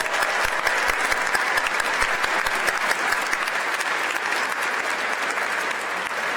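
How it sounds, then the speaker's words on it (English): A large crowd at the 2019 Wisconsin inauguration ceremony applauds pre-ceremony performers with loud, sustained clapping that holds steady for several seconds without a break. "Let's give them another round of applause."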